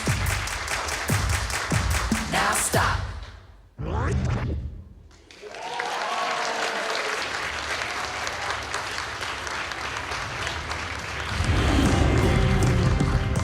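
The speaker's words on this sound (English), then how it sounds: "And everybody clap your hands." Audience at a worship song session clapping hands, dense sustained applause that cuts off sharply, then resumes after a brief spoken cue and swells louder toward the end.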